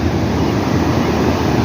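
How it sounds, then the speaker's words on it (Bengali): Sea waves break and wash up onto a sandy beach in a steady, loud rush of surf, with wind noise buffeting the microphone throughout and no clear voices. "ঢেউ আসছে"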